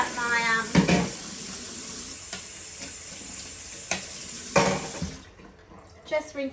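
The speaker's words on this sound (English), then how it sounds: "I'm actually going to give this a bit of a rinse." Tap water runs steadily into a microwave cooking pitcher being rinsed at a kitchen sink, a continuous broadband hiss with a few louder splashes and clunks, while a person speaks briefly at the start and end.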